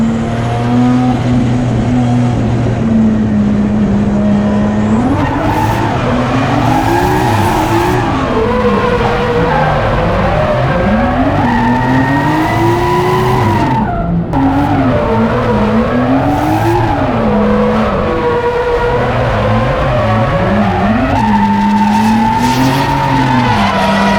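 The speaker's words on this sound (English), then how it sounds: "you're just gonna kind of bump that clutch in, disrupt the power, let it swing out, and then at the right moment, get back on the throttle and then drift through the corner" A car drifts through a corner on a track with a clutch kick: loud engine revving rises and falls while sustained tire squeal and skidding run throughout, with no talking.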